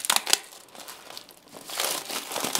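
Plastic wrap crinkles and tears as a new iPad mini 6 is unboxed, with close, loud rustling bursts at the start that settle and then return in a denser crackle toward the end.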